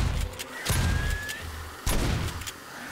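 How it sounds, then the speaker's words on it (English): Shotgun blasts from the video game 7 Days to Die, two sharp booming reports about a second apart over a low game-world rumble, with a brief whistling tone after the first shot. "Nice thing about the shotgun is we get multiple hits for the price of one."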